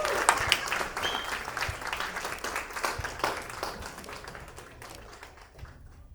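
Guests at a wedding reception applaud and cheer the couple, with a burst of lively clapping and scattered voices that thins out toward the end.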